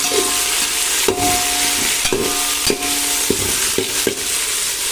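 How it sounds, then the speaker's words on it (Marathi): Large onion pieces frying in oil in a big pot for chicken dum biryani, with a steady loud sizzle broken by repeated scraping knocks of a spoon stirring against the pot, close up and without talk. "ते देखील आता आपल्याला तेलामध्ये छान असं भाजून घ्यायचं."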